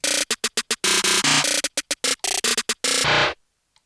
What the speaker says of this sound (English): we have our snare rolls